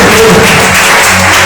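A church congregation applauding together during a worship service, a dense, loud, continuous wash of clapping that fills the whole moment with no voices over it.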